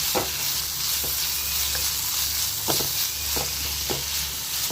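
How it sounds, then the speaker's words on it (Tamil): Tomatoes and onions sizzling steadily in a pan as they are sautéed, with soft scraping stirs against the pan now and then, close and moderately loud. "தக்காளியும் சேர்த்தாச்சு அதையும் சேர்த்து நல்லா வதக்கி வச்சுக்கலாம்"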